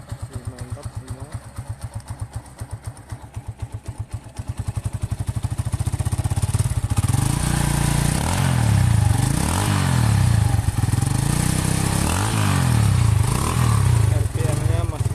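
A 2005 Honda Megapro motorcycle with its stock exhaust idles with a rapid, even thumping putter, then is revved into a louder, sustained roar with rising and falling surges.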